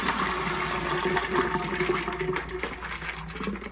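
Cooked black-eyed peas being drained, with water pouring and splashing steadily at close range for several seconds, a running liquid rush without talk.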